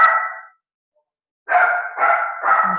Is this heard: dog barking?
yes